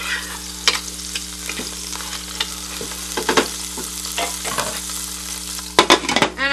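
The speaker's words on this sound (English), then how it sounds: "I'm just going to toss it in and saute it around. Let me just give it a little stir." Meat tossed into a soup pot for a vegetable soup, sautéing with a steady sizzle while a spoon stirs and scrapes in irregular clanks and bursts, with a low constant hum beneath and no talking.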